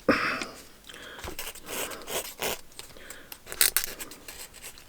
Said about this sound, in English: Scrape it on these bits here like so.